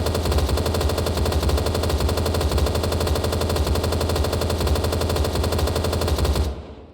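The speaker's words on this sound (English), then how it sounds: "The first LMG is the Ultimatix 100 Mark II. This has 100 rounds." An Ultimatix 100 Mark II LMG fires in one long, rapid, unbroken burst in a COD Zombies-style video game, loud and close with a fast, even rattle of shots, cutting off sharply near the end.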